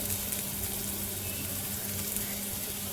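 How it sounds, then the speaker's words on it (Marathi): Chopped carrot goes into a pan of sautéed tomatoes for a baby's spinach dal khichdi, giving a soft, even, continuous sizzle with no talking. "टोमॅटो छान असा परतून घेतल्यावरती आपण त्यात ॲड करते मी गाजर"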